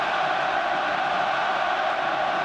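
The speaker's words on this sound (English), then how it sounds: "Heaslip with the crowd roaring them on." Stadium crowd at an Ireland Six Nations rugby match in 2014 roaring steadily, a dense, continuous wall of noise with no breaks.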